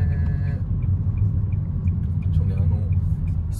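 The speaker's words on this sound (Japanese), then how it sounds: "走行中のこのロードノイズ" Low, continuous road rumble and tire noise inside a moving new Nissan Kicks compact car, steady and droning with faint higher ticks above it.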